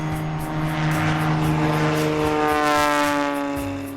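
A tailwheel propeller airplane taking off with 20 degrees of flaps in a three-point attitude, its engine droning loudly and steadily with rising propeller tones as power builds, close and continuous with no talk.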